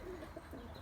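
Pigeons in a breeding loft give soft, low cooing calls, faint and close, repeating in short murmuring phrases against a quiet background.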